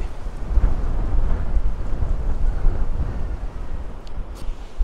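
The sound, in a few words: wind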